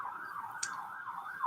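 A police car siren wails at a moderate distance, its steady tone gently rising and falling across a short stretch of quiet background.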